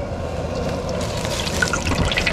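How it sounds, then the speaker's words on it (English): Wet fingertips flick water drops into hot frying oil for a fish fry, producing a steady close crackling and bubbling sizzle with scattered brighter pops toward the end, with no talking. "And if it does that, it bubbles up, the oil's hot"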